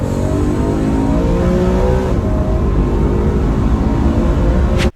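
BMW M3 E93 convertible with its V8 revving hard under acceleration toward 8,500 rpm, a loud, close, continuous engine roar with rising harmonics through the pull, cutting off abruptly at the end.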